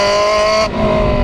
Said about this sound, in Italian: Il tono degli scarichi non è esasperato al minimo come la Challenge stradale, ma inizia a farsi sentire già dopo i 3000 giri.